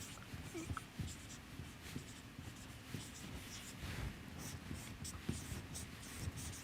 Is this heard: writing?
yes